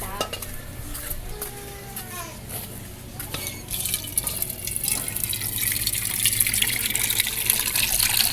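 Water from a tap gushes steadily into a vessel, growing louder and fuller toward the end, with clinking dishes and pots nearby as ramen is prepared.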